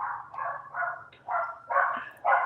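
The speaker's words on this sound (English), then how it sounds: "I got a dog barking downstairs" A dog barks downstairs in a house, a string of about six muffled, mid-pitched barks at a somewhat distant, moderate level with no talking over them.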